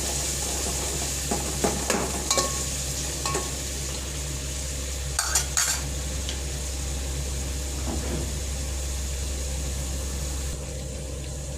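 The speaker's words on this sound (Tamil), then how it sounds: "தக்காளி. வதங்கட்டும்." Tomatoes, onion and a green chilli sauté with mustard seeds in a pan, a constant sizzle carrying scattered spoon scrapes and taps over a steady low hum.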